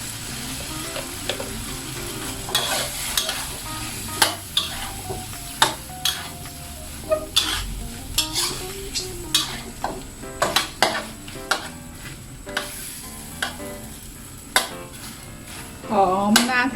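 Squid stir-fried with salted egg yolk in a pan, a constant sizzle under frequent sharp scrapes and clanks of the spatula against the pan, close and fairly loud throughout.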